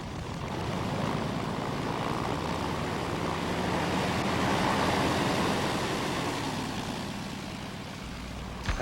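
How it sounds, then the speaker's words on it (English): A homebuilt airplane's propeller engine runs steadily close by during ground checks before a high-speed taxi, a continuous loud drone with slight swells in level throughout. "work around the airplane with the propeller running"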